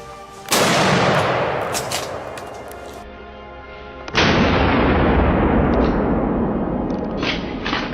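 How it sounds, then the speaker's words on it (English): Two loud gunshots during a wild boar hunt ring out across a swamp, about three and a half seconds apart, each a sharp blast followed by a long rolling echo that slowly fades. "gunshots rang out across the swamp"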